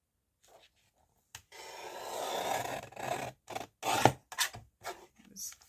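Paper ephemera being cut by hand around a printed design, close-up scissor or blade rasps and scrapes in short uneven bursts with pauses between, no talking.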